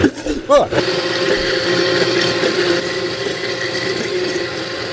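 A kitchen blender whirs through chicken liver parfait with butter and added salt, a steady motor drone with a brief uneven start before it settles into a continuous, fairly loud hum.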